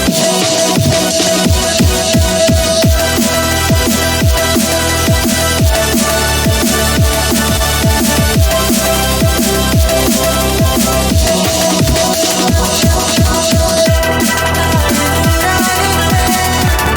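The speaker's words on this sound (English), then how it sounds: "And then the beat switches to drum and bass." Drum and bass drop from a remix of a song, with rapid, dense drum hits and heavy sustained bass and synth layers driving loudly and continuously throughout, with no voices.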